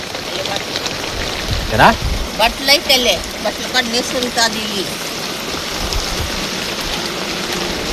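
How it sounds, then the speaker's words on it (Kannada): Rain pours steadily on a leaking shed at a farm field, a loud, even wash of hiss and patter throughout, with a voice talking briefly in the middle. "ಈ ಕಡೆ ಮಳೆ ಬೀಳ್ತೈತೆ, ನಮ್ಮ ಶೆಡ್ಡು ಸೋರಿಕೆ ಆಗ್ತೈತೆ"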